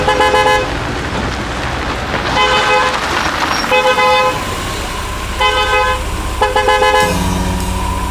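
A car pulls up with its engine running while the horn toots in several short, loud bursts, close by, between stretches of engine noise.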